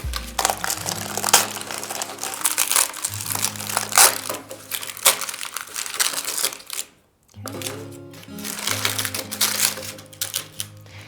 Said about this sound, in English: You simply peel away the paper.